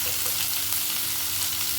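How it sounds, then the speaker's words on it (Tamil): Sliced onions sauté with salt in a hot pan for a South Indian potato kizhangu, giving a steady, close, dense sizzle with light stirring and no voices. "இந்த வெங்காயத்துக்கு தகுந்த சால்ட்டு போட்டால் கொஞ்சம் சுருக்க வதங்கிடும்."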